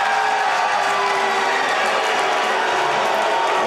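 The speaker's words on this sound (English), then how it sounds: "We've got some excitement here in the crowd." A college hockey crowd at a Farmingdale versus Lindenwood game roars in an excited, steady wash of cheering and clapping that stays loud and continuous throughout.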